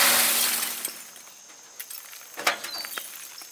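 Hard pieces of coconut-shell biochar from a rocket stove clink together like small glass shards in a few separate bright, sharp taps, moderately close and fairly faint, with no voices.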